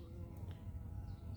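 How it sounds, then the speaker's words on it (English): A steady, low droning buzz of bees among garden plants continues throughout, fairly close and even in loudness, with no talking. "Not sure what kind of bees those are."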